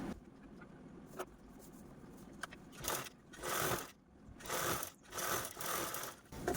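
A sewing machine stitches a zipper onto blouse fabric in several rapid whirring bursts separated by short pauses, with a faint mechanical rattle between runs.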